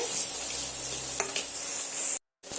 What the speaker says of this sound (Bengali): ঠিক সেইভাবে লঙ্কাটা দিয়ে দেবে দিয়ে আমি এটা কিছুক্ষণ ধরে কষিয়ে নেব